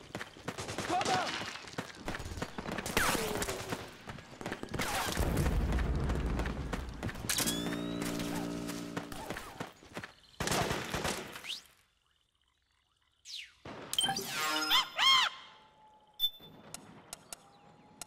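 Gunfire in the stealth action game Metal Gear Solid 4: Guns of the Patriots: dense shooting and mechanical clatter fill the first half, then scattered shots and effects follow a near-silent pause, with voices calling out over the fighting.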